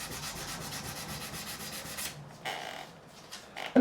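Fine-grit sandpaper, 400 to 2000 grit, rubbing steadily back and forth over the frets of a Korean-made Squier Strat's 24-fret neck, close and continuous, then easing into a few slower, scattered strokes.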